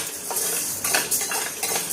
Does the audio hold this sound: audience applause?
no